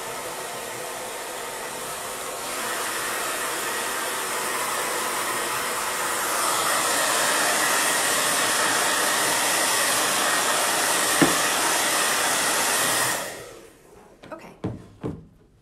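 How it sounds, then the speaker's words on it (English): A hair dryer blows to dry paint on a homemade DIY sign, a loud steady roar that shifts up in intensity twice before cutting off, followed by a few light knocks. "I'm going to dry that with a dryer really quick"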